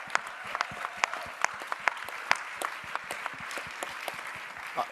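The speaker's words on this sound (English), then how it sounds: "Huge round of applause." A conference crowd applauds with steady, dense clapping that carries through the whole stretch, fairly soft and distant, with no voices over it.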